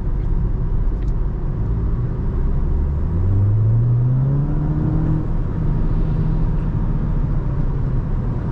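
A 2023 VW Jetta GLI accelerating on the road, steady cabin rumble and engine drone rising in pitch through a gear, heard from inside the car without talk.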